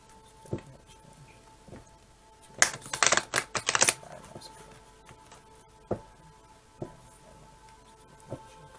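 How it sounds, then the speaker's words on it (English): Quick burst of rapid tarot card riffling, a crisp flurry of flicks lasting about a second, with a few isolated taps and soft clicks before and after. "so you can see that the cards are being shuffled"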